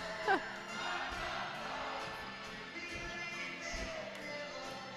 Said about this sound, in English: listen to the crowd, though. The crowd into this.